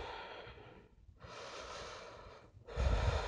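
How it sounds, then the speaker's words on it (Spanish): Breathing through the nose in a yoga downward dog pose: a long audible exhale, a short pause, then another breath and a stronger, louder one, close and alone. "Una respiración aquí."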